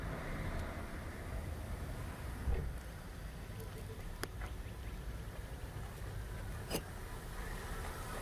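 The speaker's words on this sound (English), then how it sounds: "They're moving our customer's car" A customer's car is moved nearby on a Saturday evening, giving a low, steady engine rumble and road noise with a few sharp clicks and knocks, and faint voices in the background.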